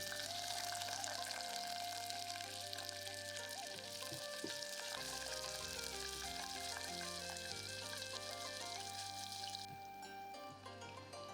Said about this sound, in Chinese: 另外准备锅烧油，用辣椒段、蒜片、姜炝锅